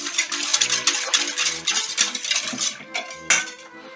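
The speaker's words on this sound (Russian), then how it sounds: "Теперь все перемешиваем." A spoon clatters and scrapes around a bowl while stirring a gratin mixture of ground nutmeg and melted butter, sounding as a string of bright, irregular metallic clinks and knocks, close and fairly loud.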